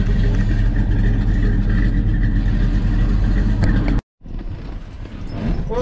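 A 1969 Chevrolet Chevelle with a four-speed manual cruises around the block, its engine droning loud and steady, broken by a brief cut in sound before the rumble resumes.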